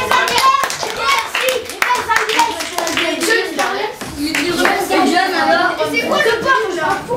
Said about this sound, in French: Allez, applaudissements.